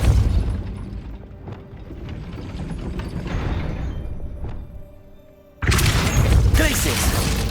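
Spell impact on a gate mechanism in the Hogwarts Legacy video game: a dense, busy game soundscape of clanks and ratcheting, then a sudden loud burst of mechanical crashing and grinding near the end.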